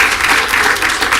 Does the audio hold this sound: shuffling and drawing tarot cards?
no